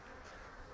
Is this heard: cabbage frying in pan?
no